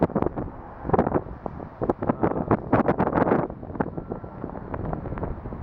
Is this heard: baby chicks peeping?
no